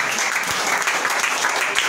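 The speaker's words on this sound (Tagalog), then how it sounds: "Yung malakas na palakpak sa Panginoon." A church congregation claps together in a steady, loud burst of applause filling the room, with no speech over it.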